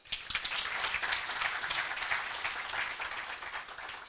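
An audience at a Kenyan youth employment and entrepreneurship launch event bursts into steady, dense applause, close and sustained, with no speech over it.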